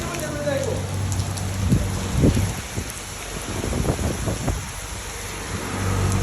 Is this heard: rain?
yes